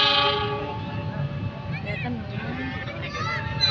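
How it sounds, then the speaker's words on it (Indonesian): The Argo Parahyangan passenger train runs through a station junction, rumbling with tonal horn-like bands and squealing wheels while people talk nearby. "Argo kotak melintas langsung."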